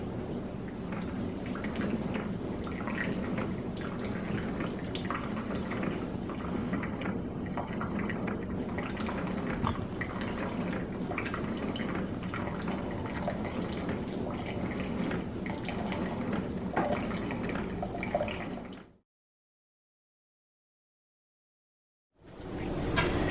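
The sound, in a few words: coffee maker dripping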